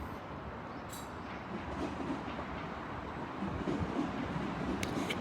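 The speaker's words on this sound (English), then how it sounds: "passing through now, is a Great Western Railway 5-coach IET" Great Western Railway five-coach IET train passing at a junction on the Great Western Main Line, a steady broad rumble and rail roar that swells slightly as it goes by, close and sustained without speech.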